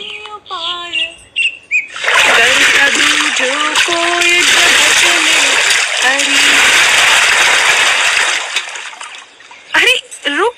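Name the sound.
water splashing as women fill pots at a well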